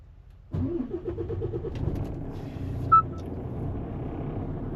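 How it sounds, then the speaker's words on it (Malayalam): A car engine cranks and catches, then settles into a steady idle with a brief rev; the starting burst is clear and fairly close, with no talking. "വണ്ടി സ്റ്റാർട്ടാക്കി പോവാ."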